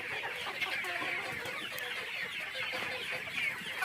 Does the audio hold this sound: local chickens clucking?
yes